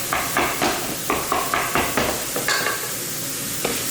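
Eggs and steak sizzling in a hot pan, with a steady fry hiss under repeated sharp scraping and stirring knocks from a utensil, close up and with no talk.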